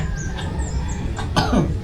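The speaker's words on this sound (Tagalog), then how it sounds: "Sobrang sunod-sunod yung ubo mo." A child with a persistent cough gives one or two short, harsh coughs near the end, close to the listener, over a steady background hum in a rural home with faint bird or chicken sounds.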